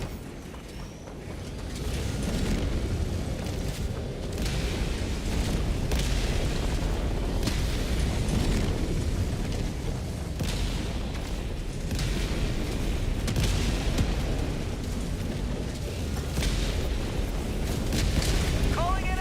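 Orbital strike explosions in a sci-fi shooter video game, a sustained barrage of heavy booms and rumbling blasts at steady loudness across the whole stretch, with voices talking over the din.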